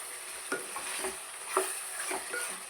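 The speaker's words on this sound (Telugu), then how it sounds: "ఒకసారి మిక్స్ అయితే చేసుకుందాం." Chicken liver curry is stirred in a pan, with several soft scraping strokes of the spoon at irregular intervals over a quiet, thin background hiss, no talking.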